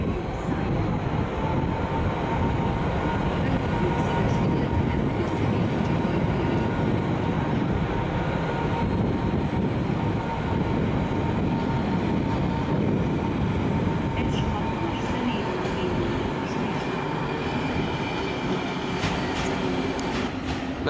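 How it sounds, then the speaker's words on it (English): A Eurosprinter locomotive hauls carriages past at Budapest Keleti station, a continuous low rumble and rolling rail noise holding steady throughout, with faint squeals and clatter in the background. "Euro Sprinter comes past."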